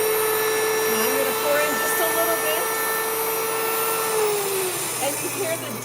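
A WonderMill electric grain mill runs with a steady, loud whirring roar while grinding wheat into flour, the motor noise constant throughout with faint voices in the background.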